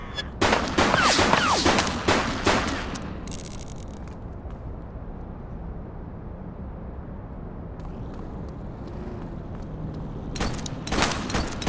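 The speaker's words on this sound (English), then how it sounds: "He's shooting! He's shooting!" Rapid bursts of gunfire from a suspect in The Precinct video game crack out close and loud at the start, fade into a rumbling lull, then return with more shots near the end.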